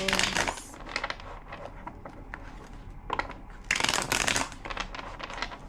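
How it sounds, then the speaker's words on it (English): Cards riffle and shuffle in quick rustling bursts, a couple of louder flurries with softer handling between, close to the listener. "2 more shuffles"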